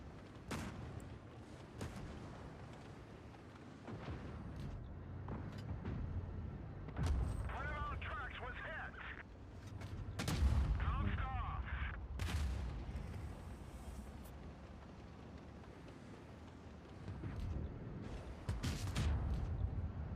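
Tank cannon fire in the World of Tanks Blitz video game during a professional tournament match: several deep booming shots and explosions spaced across the span, with a commentator talking continuously over the battle.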